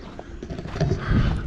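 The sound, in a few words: loose horse trotting hooves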